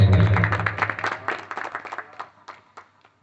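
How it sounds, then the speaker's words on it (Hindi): A festival audience claps in welcome as a garland is offered to a mahant at a Saraswati Puja Gita discourse; dense applause starts loud, then thins into scattered claps that fade out. "तालियों के साथ आप लोग स्वागत करेंगे।"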